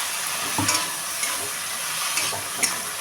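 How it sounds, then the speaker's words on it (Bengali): Fried okra sizzles steadily in a pan while ground sesame paste and green chili are stirred through it, with a few distinct scraping stirs over the continuous close frying hiss. "তিল আর কাঁচা লঙ্কা দিয়ে আমি খুব ভালোভাবে ভেন্ডির গায়ে মিশ করে দেবো"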